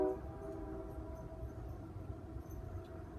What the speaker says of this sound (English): A westbound Z train, eastbound oil train.